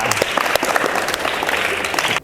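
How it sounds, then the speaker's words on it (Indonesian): Audience applause at a sharing session on athlete attitude and personal branding, a dense steady wash of many hands clapping that fills the room and cuts off abruptly at the end. "Oke, tepuk tangan untuk kita semua."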